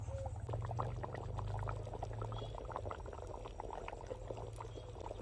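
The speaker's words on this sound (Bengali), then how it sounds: "খাসির মাংস রান্না হয়ে গেছে এক চামচ ঘি দিয়ে দেবো" Spoonful of ghee added to cooked goat meat curry: soft bubbling and sizzling from the simmering pot with light wet pops, low and close, with no talking.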